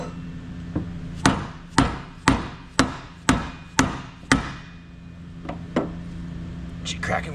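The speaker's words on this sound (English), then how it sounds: "I'm gonna try and crack this thing loose with a rubber mallet" A rubber mallet strikes the top cover of a classic Warn winch to loosen it, giving about seven loud, close, evenly spaced thuds followed by a few lighter taps.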